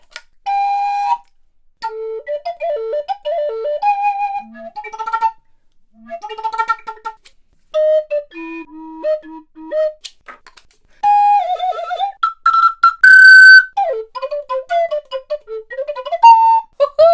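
A breathy three-hole pipe flute with a whistle head plays short melodic phrases alone, bright whistling tones hopping between notes with brief pauses in between.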